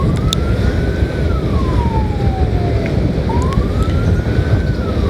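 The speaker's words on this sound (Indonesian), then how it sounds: "Sirine selanjutnya yang sering digunakan oleh ambulans adalah sirine wail." An ambulance siren in the wail 1 pattern sweeps slowly up and down in long rising and falling tones, loud and continuous over heavy low rumbling noise.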